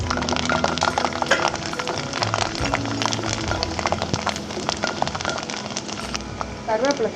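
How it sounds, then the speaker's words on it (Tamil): Mustard seeds and urad dal crackle in hot sesame oil, a dense, continuous run of sharp pops and spits heard up close. "கடுகு உளுத்தம் பருப்பு தாளிச்சு அதுலேயே பூண்டு போட்டுக்கலாம்."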